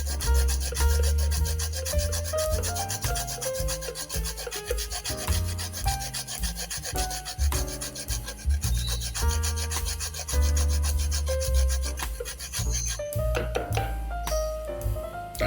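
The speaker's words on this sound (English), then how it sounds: "I'm using my judgment in terms of the amount that I'm going to grate that." Carrots being grated for juice, a steady rasping scrape repeated in quick strokes, close and loud throughout with no pauses and no talking.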